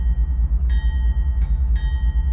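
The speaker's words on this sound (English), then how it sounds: "Use your horn to warn people and animals that you're approaching" A diesel locomotive horn in Open Rails sounds in three short blasts, the middle one briefest, over a constant heavy low engine rumble; the tones are steady and fairly loud.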